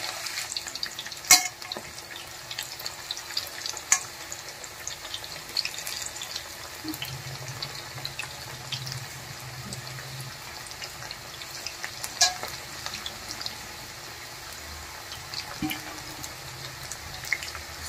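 Onion pakoda batter frying in hot oil, a steady soft sizzle and crackle running throughout with a few sharper clinks and pops.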